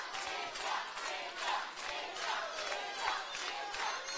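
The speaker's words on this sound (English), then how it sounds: "You can hear the crowd getting behind both fighters" Crowd noise swells and roars continuously from the floor at a CF 48 combat bout between Katrina Wise and Wyn Chem, a loud, steady wash of cheering and shouting with periodic surges and no clear individual voices.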